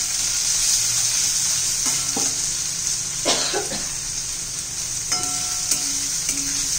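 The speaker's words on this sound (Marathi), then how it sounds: "आता टोमॅटो घालून घेते, तो पण थोडासा आपला परतून घेऊया।" Tomatoes and onions sautéing in a pan for veg Schezwan fried rice, with a loud, steady hiss of frying and scattered spatula scrapes and taps nearby.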